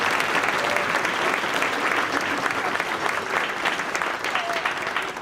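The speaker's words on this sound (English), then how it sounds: "So let's give them one more round of applause" An audience at a school spring band concert gives the band students a warm round of applause, dense and continuous throughout, with faint voices mixed in.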